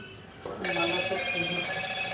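A telephone ringtone starts abruptly and plays a repeating electronic melody at moderate loudness in an indoor setting, continuing to the end.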